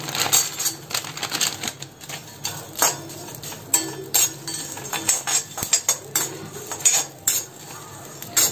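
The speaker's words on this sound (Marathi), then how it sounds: "आता हे भाजत असताना त्याच्यावरतीच मी जायपत्री 20 ग्रॅम घालणार आहे" A spoon scraping and clinking against a pan while Malvani masala spices roast dry with mace added, with quick repeated close metallic taps and stirring scrapes at an uneven rhythm.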